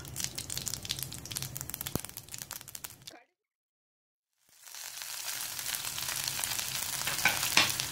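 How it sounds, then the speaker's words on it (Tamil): Mustard seeds added to hot oil for Kerala kadala curry: crackling sizzle for about three seconds, a brief silence, then spluttering and popping that grows louder, close up, with no voices. "இப்போ இதில் கடுகு சேர்த்துக்கலாம்."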